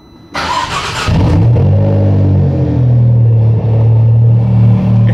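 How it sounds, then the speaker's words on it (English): A Maserati MC20 Cielo supercar engine starts with a sharp bark, then settles into a loud, low, steady idle rumble, close by with no voices. "It has a pretty nice loud and low rumble. Very unique sound."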